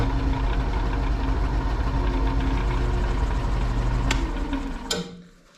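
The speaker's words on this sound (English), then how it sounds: "And then I actually turn the lathe on and then advance the tailstock." Wood lathe spinning up a woodturning blank for an urn, a steady mechanical hum with a constant low drone, close and continuous, winding down and fading out at the end after a couple of sharp clicks.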